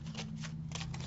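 A witch tarot deck being shuffled close up, a steady papery riffle of cards with soft repeated bursts over a low steady hum, no voices.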